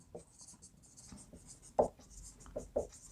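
Pen strokes write out a math solution on paper, a few soft scratchy marks and taps, faint and close, with quiet intermittent talk underneath.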